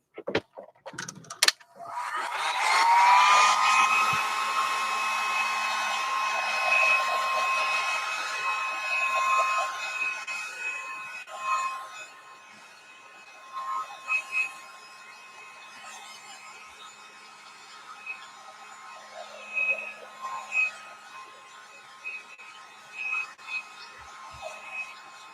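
A hair dryer blows steadily on a Gelli-print collage being made into ATCs, starting loud after a brief click and fading somewhat over the last half, with a constant whirring tone throughout.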